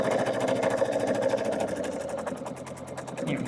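Sewing machine stitching a quilt seam, a close, steady rapid whirring chatter that runs without a break, with fabric edges cut on the bias.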